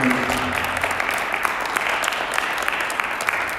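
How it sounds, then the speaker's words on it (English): Crowd at a high school athletics signing ceremony breaking into steady applause, a thick wash of clapping with a few sharper individual claps standing out near the front. "let's give Kevarr, Grant, and Cole a round of applause for their effort and dedication to performance"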